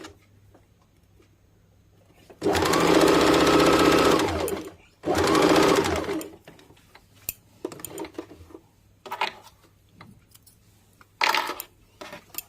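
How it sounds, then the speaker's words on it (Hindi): A sewing machine stitches blouse fabric in two close, loud runs of about two seconds each, with a fast, even needle rattle. Clicks and light handling taps of the machine and cloth follow. "इसी प्रकार ऊपरी हिस्से का भी सिलाई कर देंगे।"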